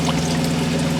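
Water pours steadily from the radiator of a Chevy truck onto gravel, a close, loud, continuous gushing splash with a low hum beneath it and no talk.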